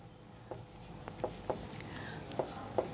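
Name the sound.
writing a GST table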